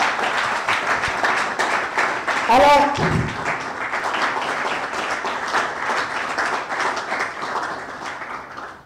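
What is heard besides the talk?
audience applause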